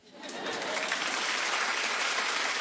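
A television talk-show studio audience claps in a dense, loud, steady wash that swells quickly and keeps going.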